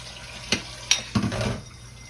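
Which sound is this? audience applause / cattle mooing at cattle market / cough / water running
water running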